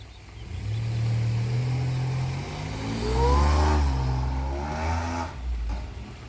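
A vehicle towing a trailer pulls away and drives off, its engine revving and rising in pitch as it accelerates, a steady loud rumble that fades slightly toward the end.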